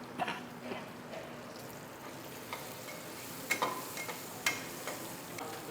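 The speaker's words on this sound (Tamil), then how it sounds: "சின்ன வெங்காயம் நல்லா ரோஸ்ட் ஆகுது" Shallots sizzle and fry in a pan for rice-and-toor-dal sadam, giving a soft continuous crackle broken by a few sharper stirring clinks and scrapes, with no talk.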